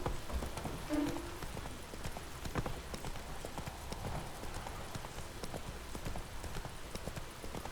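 Hooves of the horse Roach in The Witcher 3, a quiet, continuous clip-clop of walking steps under faint game ambience, with no talk over it.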